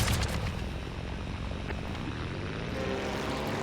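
Aircraft engine roaring steadily during takeoff in a video game, a dense continuous drone with rumbling low end that holds at an even, fairly loud level throughout with no talk over it.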